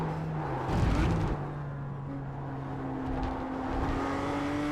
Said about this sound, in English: You'll hear when the car goes through, you can hear it like hitting, sounds like it's hitting the arches of the car